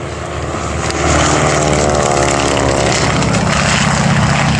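A Travel Air Mystery Ship with a 300-horsepower radial engine flies past at an airshow, its loud propeller drone swelling after a second and holding as a steady, rich roar.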